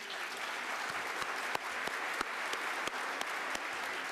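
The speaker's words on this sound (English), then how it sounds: "if you could hold your applause" Steady applause from a panel-discussion audience, a dense even patter of many hands at moderate loudness with a few sharper claps standing out, no voices over it.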